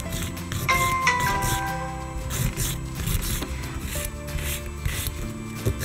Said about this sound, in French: Donc vous limez tout simplement.